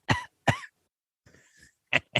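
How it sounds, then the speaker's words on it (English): A person coughs several times, two sharp coughs close together, a pause with a faint throat sound, then two more quick coughs, close and alone. "Cough, cough, cough."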